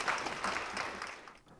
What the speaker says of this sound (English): let's give Minister Lin a round of applause and welcome him on stage.